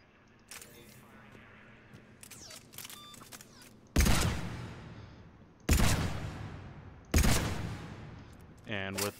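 A handgun fired in Mass Effect 3: three loud, heavy single shots at roughly even intervals, each with a long decaying tail, following quieter clicking interface and equipment sounds.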